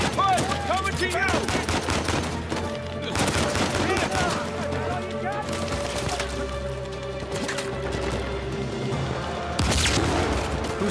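Gunfire rattles through a firefight in Uncharted 4, with repeated loud shots and bursts coming close and continuous over game music and action noise.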